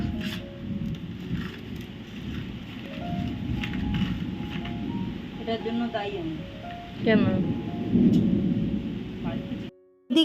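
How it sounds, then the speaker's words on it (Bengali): A thunderstorm with rain brings a low, continuous rumble and rushing wash of weather, with a faint, tonal voice drifting over it before the sound cuts off abruptly near the end. "বৃষ্টি শুরু হয়েছে ঝড় হচ্ছে অনেক কিছু ভেঙেও গেছে"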